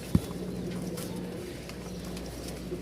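Giribaz pigeons at a sale in Rajshahi give a soft, low cooing murmur, a few faint coos over quiet background noise after a brief knock at the start.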